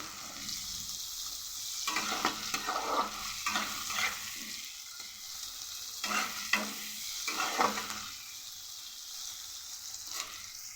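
Sliced onions with a pinch of salt fry over a high gas flame, a steady sizzle broken by several bursts of stirring and scraping in the pan, with no voices.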